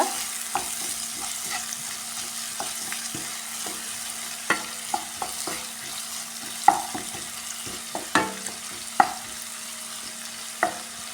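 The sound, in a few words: onion, green chilli, ginger, garlic sautéed in oil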